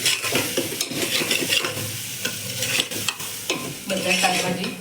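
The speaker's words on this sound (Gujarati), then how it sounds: "બધા શાકભાજી સતળાય છે અને થોડું મીડિયમ આંચ ઉપર આપણે થોડી વાર સતળાવા દઈએ" Vegetables with green chili sautéing over medium heat in a pan, a steady close sizzle broken by repeated scraping stirs of a utensil against the pan, with no talk.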